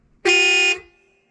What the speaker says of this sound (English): Loud horn. Now people will actually hear me when I'm going down the road.